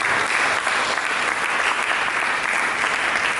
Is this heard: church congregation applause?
yes